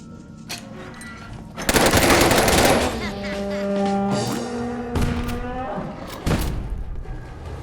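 Gauss rifle fire in a Fallout-style post-apocalyptic video game: a loud burst of shots followed by droning, tonal electronic hums and further sharp blasts, with no talking.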